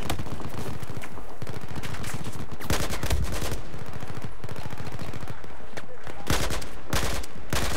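Gunfire in the video game Battlefield 4 sounds in several loud, close bursts of rapid automatic shots separated by short gaps.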